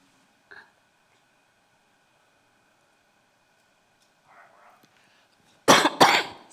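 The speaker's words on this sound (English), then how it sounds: "I'm going to cough, so can we take a break?" One person gives two sharp, loud coughs close to the microphone near the end, after a long stretch of near silence broken only by a small click and a faint murmur.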